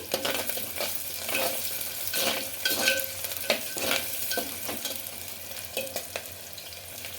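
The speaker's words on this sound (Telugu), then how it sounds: "ఆనియన్స్ బాగా గోల్డెన్ కలర్ వచ్చేవరకు ఫ్రై చేసుకోవాలండి" Onions crackle and sizzle steadily in hot oil while a spatula scrapes and stirs the pan in repeated strokes, with no talking.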